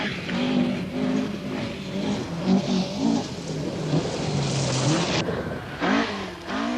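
A Vauxhall Chevette rally car racing on a stage of the 1975 Lombard RAC Rally, its engine snarling and shifting through gears continuously, fairly close and loud with no voices.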